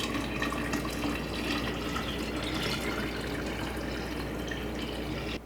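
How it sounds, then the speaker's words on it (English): Water is poured into a 10-cup container while making strawberry lemonade, making a steady, continuous splashing stream that stays close and even throughout, with no talking. "I usually add 5 cups of water to start, just to see how much flavor my lemonade has."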